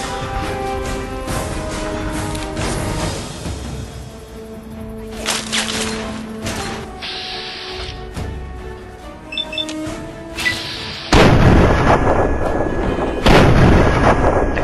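Bombing explosions hit the player in Fallout 3, mixed with gunfire and a tonal game soundtrack. Scattered sharp blasts grow into loud, heavy booming bursts in the final few seconds.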